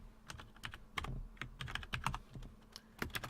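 Code being typed on a computer keyboard: quick irregular clicks and key taps in bursts, close and clear, without talk.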